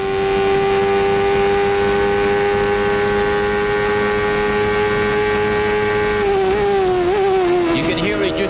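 A 1993 CART race car at Road America holds a loud, steady engine drone for several seconds, then the pitch drops and wavers as it shifts gears, with the engine note continuing throughout.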